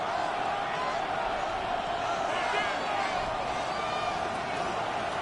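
Dense, constant roar from a football stadium crowd during a Broncos goal-line stand, loud and unbroken for several seconds with faint shouts and whistles rising through the noise.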